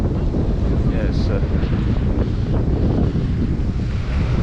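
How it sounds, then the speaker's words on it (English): Strong wind on the Ceredigion coast buffets the microphone with a loud, constant low roar throughout. "the wind's got up now"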